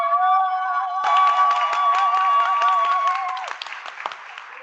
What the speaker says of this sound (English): I couldn't hear anything because they were clapping so loud.